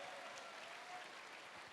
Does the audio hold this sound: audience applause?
yes